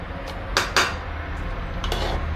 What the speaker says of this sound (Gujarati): માખણ બધું ધોવાઈ ગયું છે, તો હવે તપેલામાં કાઢી લેશું.